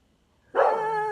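A single sharp dog bark, close and fairly loud, cutting in after a near-silent pause and ringing briefly.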